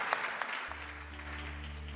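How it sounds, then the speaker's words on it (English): Applause from an audience at a congressional gathering welcoming Sikhs at the US Capitol, steady dense clapping that continues throughout, with a low droning hum entering partway. "So please thank him and give him a round of applause"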